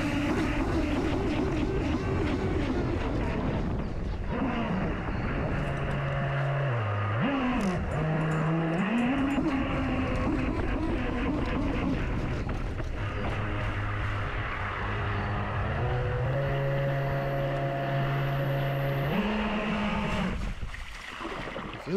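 A 3D-printed 8s RC jet boat runs on water with a high, whining motor that rises and falls in pitch as it speeds up and slows, continuous and fairly close, with water rushing under it.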